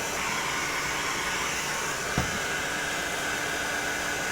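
A heat gun blows a steady, loud, even hiss of hot air while curling foam armor pieces, with one brief click midway and no talking.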